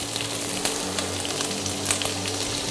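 Ginger frying in hot oil in a frying pan produces a dense, continuous sizzle with scattered crackles, close and steady throughout with no talking.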